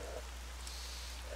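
Steady rain falls in the survival game Misery, a faint, even hiss that continues without pause and with no voices.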